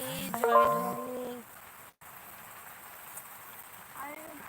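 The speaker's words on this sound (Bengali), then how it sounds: "এখানে খুব বৃষ্টি হচ্ছে" A steady wash of heavy rainfall hisses throughout, with a short burst of voice near the start and a faint one near the end.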